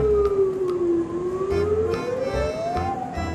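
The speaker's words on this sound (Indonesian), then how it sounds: "Ada mobil ambulan." An ambulance's wailing siren sweeps slowly up and down in pitch, loud and close, with traffic rumble underneath.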